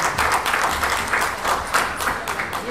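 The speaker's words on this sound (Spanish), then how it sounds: "nos recibimos con un aplauso" An audience at a Buenos Aires cultural gathering welcomes the speakers with close, lively clapping, a steady burst of many hands, loud and without talk.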